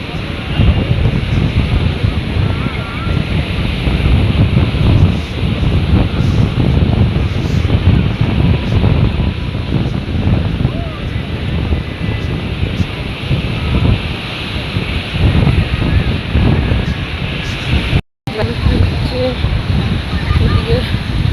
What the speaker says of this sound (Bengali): দেখছো কত সুন্দর সুন্দর ঢেউ আসছে